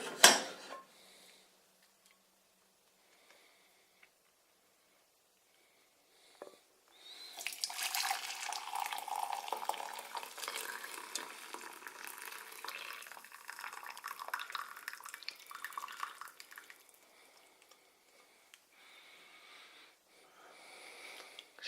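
Boiling-hot root ginger tea poured from a pan, a soft liquid trickle and splash rising after a quiet pause and running for around ten seconds before tapering into faint drips.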